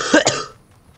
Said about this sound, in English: I can't be bothered editing out all the coughing.